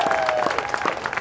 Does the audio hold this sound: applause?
yes